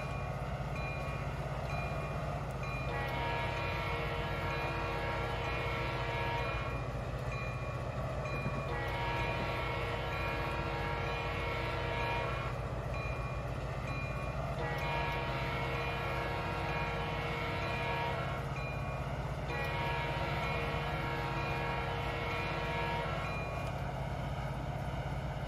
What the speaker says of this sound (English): since they have this like long horn on this locomotive